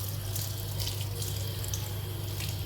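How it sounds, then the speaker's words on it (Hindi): Automatic sensor tap in a shopping-mall washroom running steadily, a continuous close hiss of water into the sink with no talking. "ये पानी ऑटोमेटिक,"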